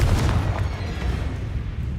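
A Confringo fire-blast spell from Hogwarts Legacy erupts as a dense, rumbling boom with a sharp onset, sustained low-end roar and crackle filling the short moment, with no talk over it.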